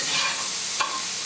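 Butter, about two tablespoons, melting in a frying pan used for pork schnitzel and pan-fried potatoes, giving a steady close sizzle with a brief stir-like scrape near the end; no one speaks.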